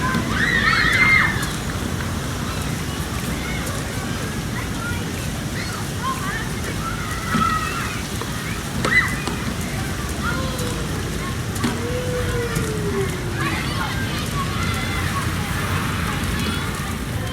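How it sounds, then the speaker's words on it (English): Steady rain in the video game Heavy Rain patters and sloshes continuously at a constant level, with a few faint tonal chirps above the wash of water. "Looks like rain's coming."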